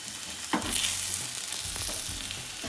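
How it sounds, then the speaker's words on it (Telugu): An onion paratha sizzles in oil in a pan over medium flame, a steady close frying hiss with a few brief stirring scrapes and crackles, no talking. "ఇటువైపు కూడా ఆయిల్ వేసుకోవాలి ఇప్పుడు కొంచెం మీడియం ఫ్లేమ్లో పెట్టేసుకొని పరోటా బాగా కాల్చుకోవాలి"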